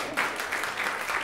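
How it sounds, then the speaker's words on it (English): A conference symposium audience breaks into brief, dense applause, close and fairly loud, clapping steadily for about a second. "of course, an applause."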